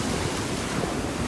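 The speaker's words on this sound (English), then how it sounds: "sorry for the wind and the waves, it's super loud, but Ford just scooped" Loud beach wind buffets the microphone over crashing ocean surf while sand fleas are being caught, a dense steady roar with no voices.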